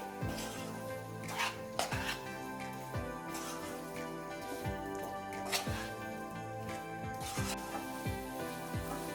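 A spoon stirs homemade kadai masala into paneer in a metal pan, giving repeated scraping clinks and knocks at a steady, unhurried pace. A faint sizzle runs underneath and no one speaks.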